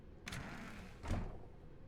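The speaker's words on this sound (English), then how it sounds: "Stanley walked through the red door." In the video game The Stanley Parable, a red door opens with a soft sliding whoosh, then a dull thud as it shuts a moment later, quiet against faint room tone.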